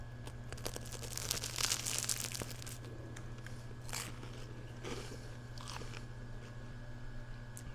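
Close, quiet crunching bites into a croissant followed by chewing, with crisp flaky crackles that come and go in several bursts before fading into softer chewing.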